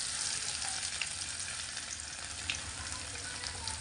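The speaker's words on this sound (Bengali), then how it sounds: "গরম তেলের মধ্যে ফোড়নে দিয়ে দিচ্ছি গোটা জিরে, 5টা 6টা রসুনের কোয়া আধ বাটা করে রেখেছিলাম সেটাও দিয়ে দিচ্ছি।" Whole cumin seeds and half-crushed garlic cloves sizzle in hot mustard oil, a constant broad hiss with occasional faint pops, steady and moderately quiet, close by and free of speech.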